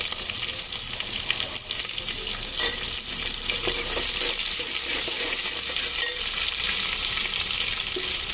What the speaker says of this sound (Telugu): ప్రతి కూరలో చూడండి ఇట్లా నూనెలో వేగితే బాగుంటుంది